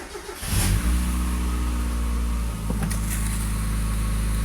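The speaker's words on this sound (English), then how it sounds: "I'm going to do a cold start." A 1995 Mazda MX-5 Miata engine cold-starts with a brief crank, catches, and settles into a loud, steady, close-up idle with no tick.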